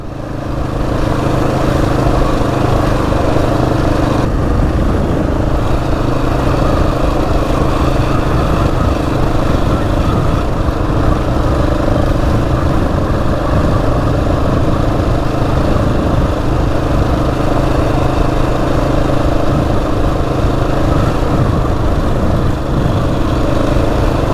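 A Husqvarna 701 motorcycle engine drones steadily and loudly while riding through a village on a French trail, a constant close rumble with no pauses across the whole stretch.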